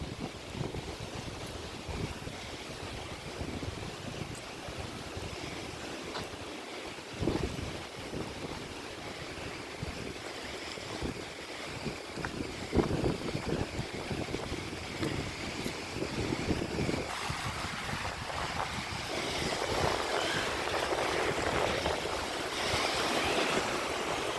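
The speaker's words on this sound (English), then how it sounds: "I'm going to walk to the beach outside my apartment." A beach in North Bay, Ontario, Canada, with steady wind buffeting the microphone and waves washing ashore, the rush growing louder toward the end, and no voices.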